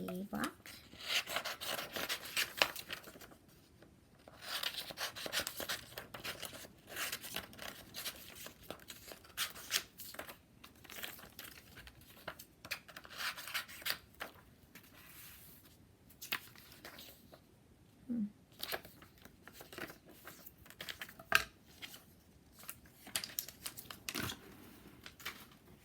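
Scissors snipping and paper rustling as a page is cut from a magazine for a collage, steady crisp cuts and rubbing that continue through the whole stretch with no voice.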